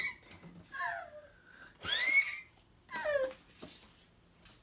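During a reading of the children's book Roar of a Snore, a voice imitates a high-pitched whistling snore with three wheezy, whistly breaths and pauses between them, close and fairly quiet.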